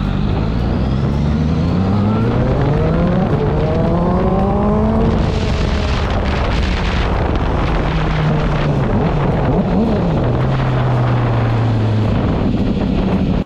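A QJMotor SRK 921 motorcycle accelerating hard on a closed lot, engine pitch climbing through the revs, then a quickshifter gear change with a crackle from the exhaust before the note settles lower; loud and close with wind noise.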